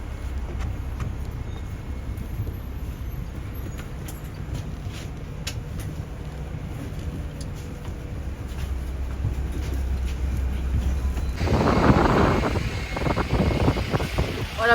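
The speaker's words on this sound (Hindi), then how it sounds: "ये बर्लिन का वो एरिया है, यहाँ पे सबसे ज़्यादा हवा चलती है मैक्सिमम" Strong wind blows through an open area of Berlin as a steady, rumbling roar that buffets the microphone, swelling stronger toward the end, with no voices.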